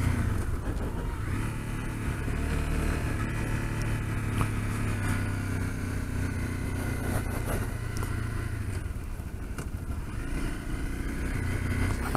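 A Honda CRF250L motorcycle rides down a ravine, its engine a continuous close drone with shifting revs and wind rumble throughout, loud and steady with occasional rises in throttle.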